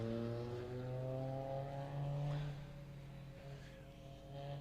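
Rally car engine of a Junior 1000 car, driven by Ryan Walker on the Mull Rally, sustained and loud with harmonic engine tones that shift pitch as it goes past, steady throughout.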